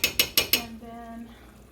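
Cornstarch slurry stirred into beef stir fry broth in a pan, giving four quick, close metallic scrapes followed by a fading ringing tone.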